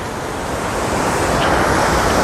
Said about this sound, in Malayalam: അപ്പോൾ നിങ്ങൾക്ക് കാണാൻ സാധിക്കും നല്ലതായിട്ട് വെള്ളം പോകുന്നുണ്ട്